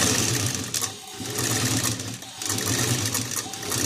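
A sewing machine stitches a table top mat at home, whirring loudly and continuously close up, with two short dips in speed before it runs on steadily.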